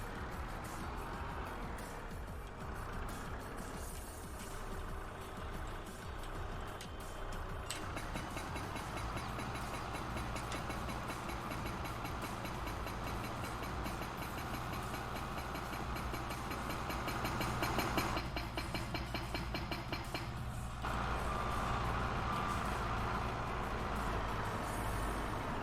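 A small truck's engine idles and rumbles in Farming Simulator 22 while rubble is hauled from a wheel loader, with a steady mechanical drone and a rise in intensity partway through, alone without voices.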